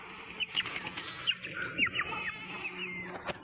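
Small silkie chickens clucking and briefly fluttering their wings as they are set down on the ground outdoors, with several short bird calls and soft flaps at close range and no talking.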